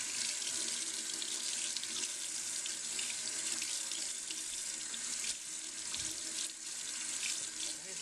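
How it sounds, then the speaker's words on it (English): A rusty metal part is rinsed under a running tap, a steady hiss of flowing water with slight splashing changes as the part moves through the stream. "let's just rinse this off and see what we get"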